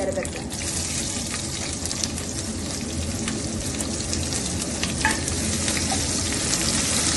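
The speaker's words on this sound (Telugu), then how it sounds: "ఎర్రగడ్డ, తొందరగా బాగా వేగాలి అంటే మనం కొంచెం సాల్ట్ వేసుకుంటే బాగా త్వరగా వేగుతుంది" Sliced onions frying with a little salt for chicken biryani in a pressure cooker, a loud, steady sizzle that runs without a break, with faint clinks of stirring.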